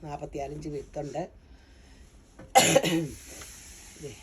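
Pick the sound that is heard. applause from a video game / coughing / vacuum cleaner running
coughing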